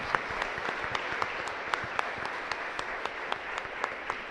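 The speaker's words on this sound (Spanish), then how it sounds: "Fuerte aplauso para el Señor entonces." Congregation applause during a livestreamed Catholic Mass in a chapel in Luque, Paraguay: steady, fairly quiet crowd clapping with a few sharper individual claps standing out at regular intervals.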